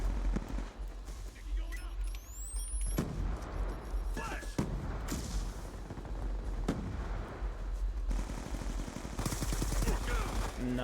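Rapid automatic gunfire in Black Ops 2 multiplayer, loud sustained bursts rattling almost without pause and mixed with game effects, while a player talks over the shooting.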